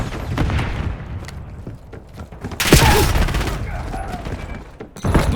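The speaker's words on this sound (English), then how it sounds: "Sniper fire." Sniper gunfire in the video game Black Ops 7, several loud sharp reports and booming thuds within a busy match, with one heavy burst midway and another near the end, under game voice callouts.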